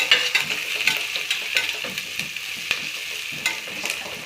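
Onion frying until it turns brownish, stirred in a pan: a close sizzle broken by frequent rhythmic spatula scrapes and light clicks against the metal, with no talking.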